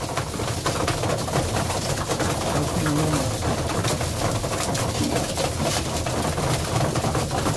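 Young Budapest High Flyer pigeons coo softly amid a dense, noisy outdoor wash of fluttering and rustling while feeding, the calls low and partly buried.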